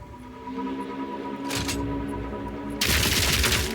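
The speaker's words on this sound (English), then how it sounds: "I just want to see how the shock burst rounds fire." Shock burst rounds fire in Path of Exile 2 as sharp crackling electric bursts, a short one followed by a louder sustained blast, layered over a steady droning game background.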